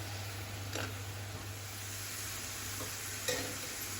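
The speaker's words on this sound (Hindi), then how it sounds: "तो हमने फ्लेम को मीडियम ही रखना है। फ्राई करते रहेंगे इसे।" Taro root (arbi) frying in oil over a medium flame, giving a faint, steady sizzle with a few brief crackling bursts.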